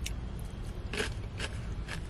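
Crunchy, not-overcooked green beans chewed in a few crisp bites, about three sharp crunches spaced roughly half a second apart, close up and alone over a low background hum.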